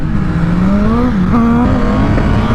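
A loud motorcycle engine drones steadily with a shifting pitch, revving up and settling back with exhaust pops, close by and continuous with no talk over it.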